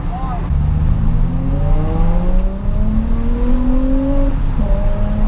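A Nissan 350Z engine revs hard at a track drift day, its pitch climbing steadily and then dipping, loud and continuous, with a faint voice underneath.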